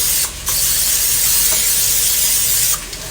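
Cooking spray hisses onto a pan in a home kitchen in one long steady burst of close, bright hiss lasting a couple of seconds, with quieter room noise before and after.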